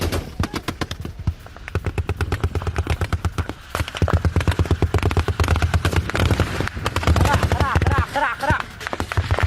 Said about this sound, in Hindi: लकी मरवत में ही कई धमाके और फायरिंग की ये तस्वीर देखिए